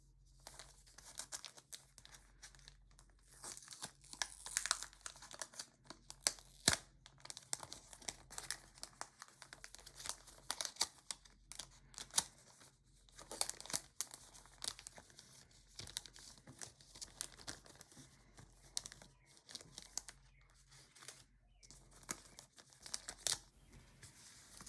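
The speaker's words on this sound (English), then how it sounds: "This is just the cardboard backing that the stickers were packed with." Crinkly plastic sticker packaging and a cardboard backing are handled up close, giving a steady stream of soft crackling, rustling and crumpling with quick sharp crinkles throughout and no talking.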